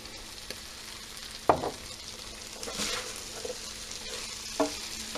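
Chicken stir-frying in a pan seasoned with flour and Chinese five spice gives a steady close sizzle, with a few sharper scrapes and clatters of stirring standing out at intervals.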